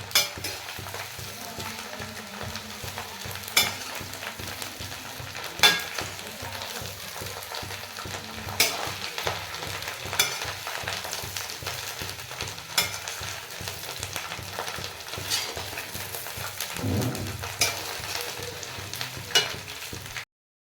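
Carrots and cauliflower fry in oil for a mixed pickle, with a steady crackling sizzle running throughout and periodic clinks and scrapes of a stirring spoon against the pan, close up and with no talking.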